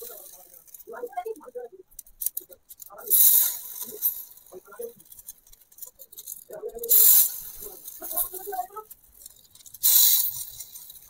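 Rava paddu batter poured into hot oil in a miniature appe pan gives short, bright hissing sizzles in three separate bursts, with a voice talking between them.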